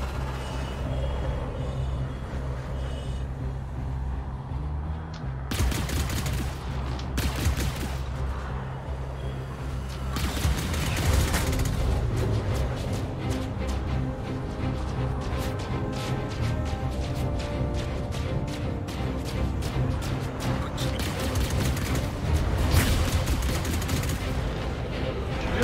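Locked missiles fire from a floating ship in a space combat video game, a dense sustained barrage of bursts and blasts over a heavy low rumble, with a few sharp volleys standing out and occasional voices underneath.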